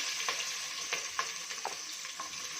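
Fennel seeds, onion and green chilli fry in hot oil for vegetable biryani, a continuous bright sizzle with a few soft crackling pops, close and fairly quiet, with no talk.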